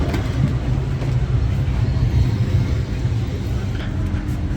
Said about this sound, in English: So I've just got on my train.